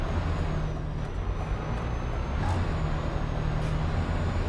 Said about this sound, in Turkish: Aracımızda 750 beygir Volvo motoru var büyük ihtimalle. Çünkü bayağı sesli bir motor.